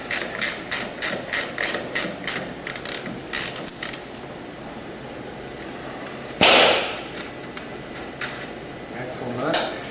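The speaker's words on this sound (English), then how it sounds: "Now we're putting in the brake bracket retaining bolt." A ratchet turns the brake bracket retaining bolt on a Sumo-X Fury, giving a quick run of sharp, evenly spaced clicks up close, then a loud clack and some scattered softer clicks.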